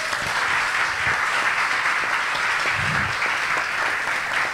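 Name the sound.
applause for the poet Manuel Barros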